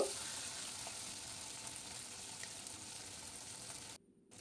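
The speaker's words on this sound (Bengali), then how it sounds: "শিমগুলো একটু সাঁতলে নেব" Flat beans and potatoes sautéing in a pan give a steady, close hiss of frying that runs unbroken for about four seconds, then cuts off abruptly near the end.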